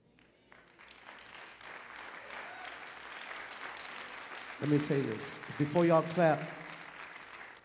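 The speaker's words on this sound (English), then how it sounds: "Before y'all continue clapping" A church congregation at an all-night prayer gathering applauds steadily throughout, a broad wash of clapping under a voice, which grows louder and more insistent toward the end.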